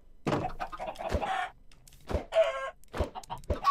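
Minecraft chickens cluck in short repeated bursts, close and fairly clear, mixed with a few soft game thumps and no talking.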